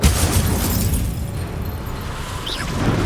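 Incendio fire spell blast in the Hogwarts Legacy video game on Xbox Series X, a loud rumbling explosive roar that swells at the start and holds as a dense, fiery rush before easing slightly.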